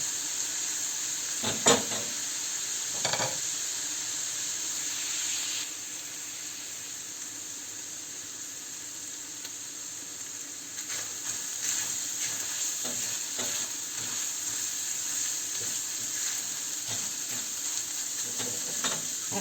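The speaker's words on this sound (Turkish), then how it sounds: "iyice kavrulmasını sağlıyorum malzemelerimin" Ingredients for minced-meat potato köfte being sautéed in a pan, a continuous sizzle with occasional louder scrapes and knocks of stirring, a steady close background with no talk.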